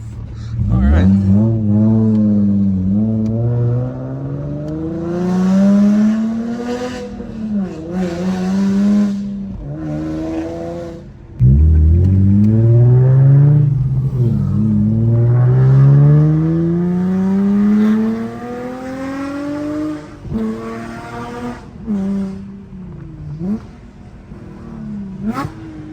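An Infiniti G37 fitted with a titanium single exit exhaust accelerates hard through several gears, each rising engine howl cut by a shift, loud and close from inside the car.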